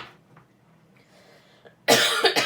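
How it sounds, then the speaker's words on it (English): A single sudden, harsh cough erupts close and loud near the end after a quiet stretch of faint room noise, with no talking. "something made me cough"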